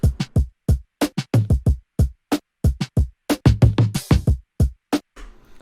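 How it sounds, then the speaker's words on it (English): An indie pop drum pattern in a bedroom-pop style, with punchy kicks and snappy hits in a steady, busy groove, played alone, close and dry, and with no talking. "Then we have another drum pattern."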